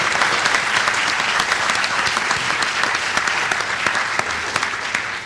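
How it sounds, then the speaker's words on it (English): An audience at a 2017 city councilor at-large candidate debate gives the candidates a sustained round of applause, a dense, even wash of clapping filling the room for several seconds with no voices over it. "How about a big round of applause for our candidates?"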